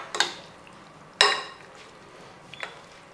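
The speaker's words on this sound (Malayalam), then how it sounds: "ഇനി ഇത് നല്ലപോലെ ഒന്ന് മിക്സ് ചെയ്തെടുക്കണം" Chicken marinade made with sour yogurt in place of tomato is mixed in a bowl, with three sharp, separate clinks of a utensil against the bowl over a quiet background and no talking.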